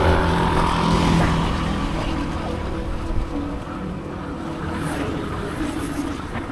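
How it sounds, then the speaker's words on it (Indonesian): Strong wind buffets the microphone at a mountain rest area on Puncak Bogor, a steady loud broadband rumble throughout with no speech. "Anginnya mantap banget, sepoi-sepoi."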